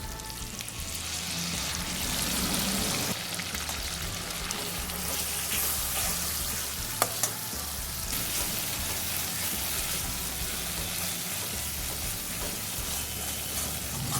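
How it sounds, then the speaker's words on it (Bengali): A paste of onion and garlic fries with turmeric and chili for a Bengali-style egg curry, a loud, dense, continuous sizzle with a brief clatter in the middle and no voices. "হলুদ লঙ্কা মশলার সাথে আমি পেঁয়াজ রসুনটাও খুব ভালোভাবে ভেজে নিচ্ছি"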